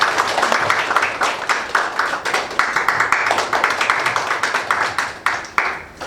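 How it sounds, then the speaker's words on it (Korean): An audience applauds at a school opening ceremony in Korea: steady, dense hand clapping from many people, fairly close and lively, continuing for several seconds without letting up. "큰 박수로 맞아주시기 바랍니다."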